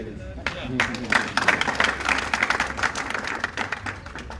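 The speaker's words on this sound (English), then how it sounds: "It's okay to clap now." An audience at a political gathering unveiling election committees claps steadily for several seconds, a dense patter of many hands that swells and holds, with a voice talking over it.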